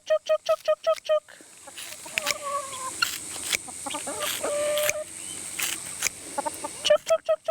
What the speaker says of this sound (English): And the chickens absolutely love this.